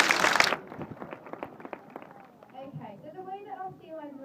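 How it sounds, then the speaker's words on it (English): Audience applause at a sea lion show at Blackpool Zoo, a short loud burst of clapping that cuts off quickly, followed by a presenter talking. "I think it's a huge round of applause, guys"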